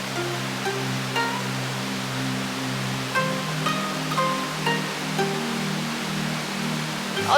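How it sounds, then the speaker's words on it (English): Waterfalls at Norikura Kogen in the Nagano highlands pour with a steady, broad rushing roar, constant and fairly close, with no voices over the continuous wash of water. "There you have the real waterfalls"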